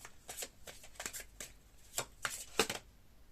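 Tarot cards being shuffled by hand, close and fairly quiet: a series of quick papery riffles and slaps at an uneven rhythm, with no talking.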